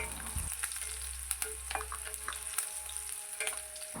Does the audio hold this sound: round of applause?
no